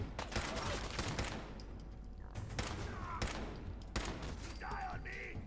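Rapid automatic gunfire in the video game Fallout 4, a dense, loud crackle of shots with sharp bursts and faint game effects behind them.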